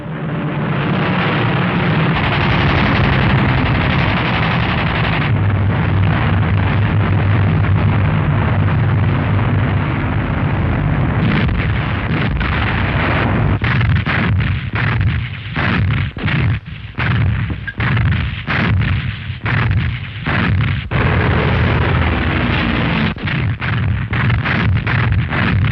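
Wartime German air raid with bombers and fighter escorts, a dense roar of explosions and rumbling blasts, loud and sustained, giving way to a rapid series of sharp bursts and booms.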